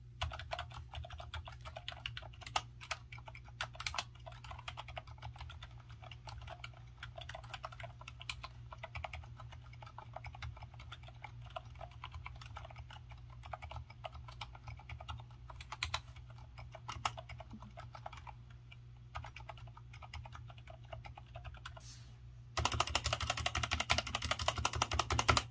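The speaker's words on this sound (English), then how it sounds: "This is the Keychron with the stock unlubed Alias switches." Quiet, steady typing on a Keychron keyboard with stock unlubed Alias switches, a run of soft close-up key clacks over low background hum, growing louder and denser in the final seconds.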